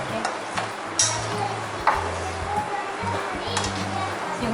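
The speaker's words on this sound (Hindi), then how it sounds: "अभी इन सबको अच्छे तरीके से मिक्स करके" Mutton chop ingredients with soy sauce are mixed and stirred in a pan over a steady sizzle, with scraping strokes and light clinks while someone talks throughout.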